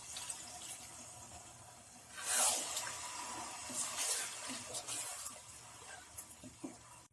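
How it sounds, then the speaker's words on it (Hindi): Water is poured into a hot pan of frying egg biryani masala, a broad hissing splash that swells and then settles into sizzling and bubbling over several seconds, with no talk. "2 मिनट के लिए हाई फ्लेम पे अच्छे से भूनने के बाद हम इसमें आधा कप पानी डाल देते हैं।"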